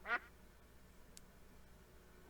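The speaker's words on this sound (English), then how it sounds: "Little duck over there." Duck quacking in a Minecraft TerraFirmaCraft modpack game, a single short nasal quack at the start, fairly clear against a quiet ambient background with a faint brief click later.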